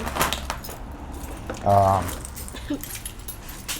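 A ring full of keys jangles and clinks in a short loud burst, close by, with a person talking around it.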